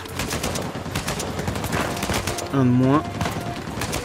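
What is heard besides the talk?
machine gun fire in the video game Uncharted 4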